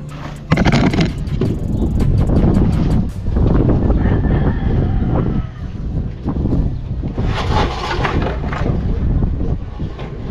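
Strong gusty wind buffets and rumbles continuously, loud and close, with deep swelling surges and fading lulls over about ten seconds.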